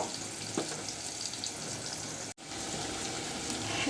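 Onions frying with salt in a pan, cooked as the base for a chicken and bottle gourd curry, give a steady, moderately quiet sizzle that runs throughout, broken once by a brief dropout.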